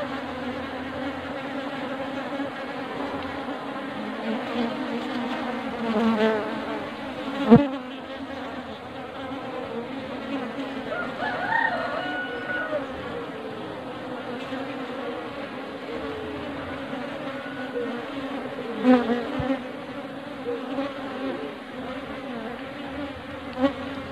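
Apis cerana honey bees buzz around a new hive box a week after being moved, a dense, steady drone of many wings close by, continuing evenly throughout with small swells.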